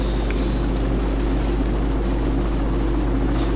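Attack helicopter rotor and engine roar from Call of Duty 4: Modern Warfare, a steady loud low drone filling the short stretch with no talk.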